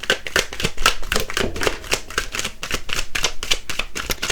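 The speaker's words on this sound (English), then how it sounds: "We'll shuffle." Tarot cards shuffled by hand in a steady run of crisp, rapid riffles and slaps, close and clear with no talking over them.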